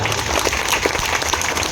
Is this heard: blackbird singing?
no